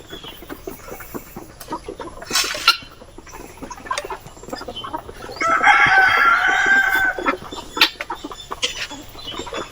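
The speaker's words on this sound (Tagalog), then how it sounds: "Ayan yung humuhuni na yon. Ito yun, tikarol." A tikarol bird calling outdoors under bamboo, giving one loud, drawn-out crow lasting about two seconds amid scattered rustling and faint knocks.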